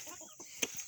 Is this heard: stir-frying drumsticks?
no